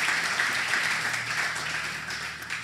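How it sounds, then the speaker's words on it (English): Audience applause after a discussion panel, a steady dense wash of clapping filling the hall for a few seconds at moderate distance, with no voices over it. "Give them a round of applause."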